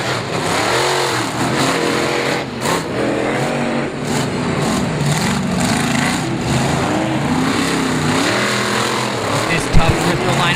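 Race cars roar around Bristol Motor Speedway in Bristol, Tennessee, engines revving and surging past in waves, with a voice talking over the continuous motor noise.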